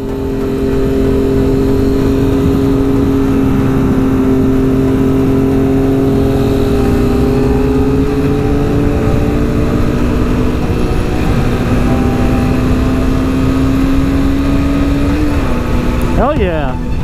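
Yamaha FZ09 motorcycles ride past, their engines droning loudly and steadily nearby for a long stretch under wind noise, with the pitch slowly falling and then a brief shift near the end.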